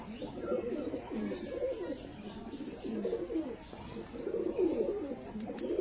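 Pigeons in a loft coo continuously in soft, throaty, overlapping phrases, close and moderately loud, with a few faint chirps mixed in.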